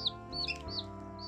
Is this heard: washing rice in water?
no